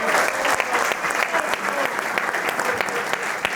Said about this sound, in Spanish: Se lleva 2 aplausos Gerardo Varela